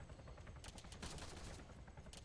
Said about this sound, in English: that gunfire, the tracer rounds you see, are actually that AI APC with the mounted gun